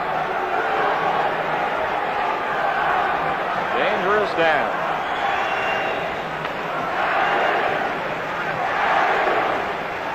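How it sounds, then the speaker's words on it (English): A hockey arena crowd at a 1978 Stanley Cup quarterfinal game between the Leafs and Islanders chants and roars in a steady wash of noise, with a brief louder shout and a commentator speaking over it. "Crowd chanting"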